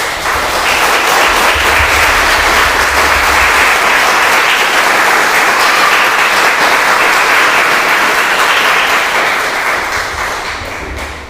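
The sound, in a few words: congregation applause in church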